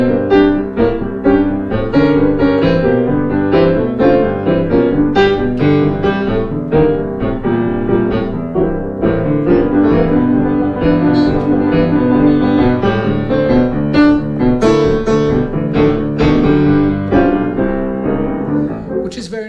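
Boogie woogie piano blues form with C in the second bar, ending by staying on the D instead of resolving to C; driving rhythmic bass and chordal right-hand figures play loudly and continuously throughout.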